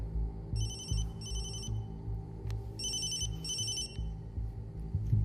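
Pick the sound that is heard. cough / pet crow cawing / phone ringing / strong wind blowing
phone ringing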